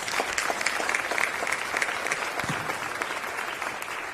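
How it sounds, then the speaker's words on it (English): Steady applause from an audience for city council members at a State of the City event, sustained and fairly even with no speech over it. "Let's give them all another round of applause."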